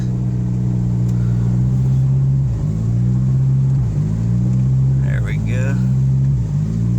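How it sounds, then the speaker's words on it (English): A turbo Honda Accord engine idles with a steady low rumble while pulling into a garage, its pitch dipping briefly every second or so as it creeps forward, with faint voices in the background. "I got the car pulled in."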